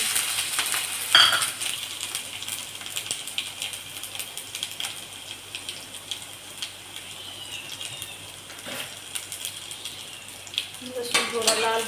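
Cumin and mustard seeds sizzling and popping in hot oil while cooking tur dal, a steady crackling fry with sharp scattered pops and spits throughout.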